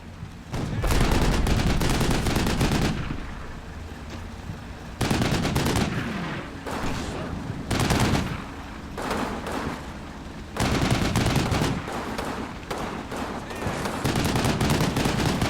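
Sustained machine gun fire in a World War II style strategy game set around a fortress, loud, dense bursts with short pauses and artillery-like booms, an occasional voice faint beneath.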